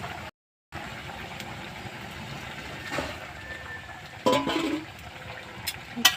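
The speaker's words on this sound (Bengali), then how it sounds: "এবার আমি সামান্য একটু জল দিয়ে দেব।" A small splash of water is poured into a pan of cooking bottle gourd, a soft, close trickle and gurgle against a low kitchen background.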